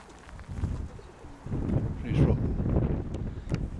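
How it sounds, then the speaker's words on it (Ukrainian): Released pigeons taking to the air in gusty wind, wind rumble buffeting the microphone throughout with soft wingbeats and faint bird sounds mixed in. "Підкинув голубів. Вони вже трошечки літають."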